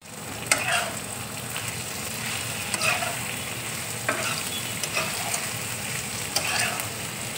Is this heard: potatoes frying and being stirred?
yes